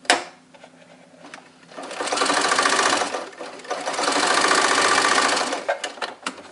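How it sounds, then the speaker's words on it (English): A sewing machine stitching quilt fabric, two loud close bursts of rapid mechanical whirring with brief slower stitching at the start and end, no talking. "and we sew this down."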